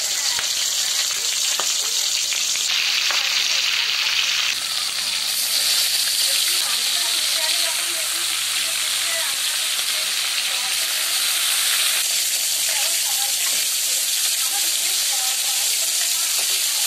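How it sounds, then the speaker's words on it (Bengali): Fish heads fry in hot oil in a wok for a Bengali chhyachra dish, a loud, continuous sizzle and hiss with crackling spatters and occasional stirring scrapes, sustained throughout. "তেল খুব ভালোভাবে গরম হয়ে এলে মাছের মাথাগুলো ছেড়ে লালচে করে ভেজে নেব"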